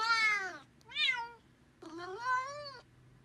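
A cat answers with three drawn-out meows, each rising and falling, close and fairly loud, separated by short pauses in a quiet room.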